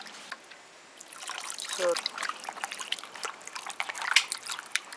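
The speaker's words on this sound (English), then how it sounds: "Wash it, and then you're gonna wash it with vinegar after." Raw stew beef, trimmed of fat, is washed under running water in a kitchen, giving a close, uneven trickle and splash that swells after a quiet start while a person talks over it.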